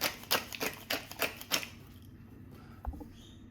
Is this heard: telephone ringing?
no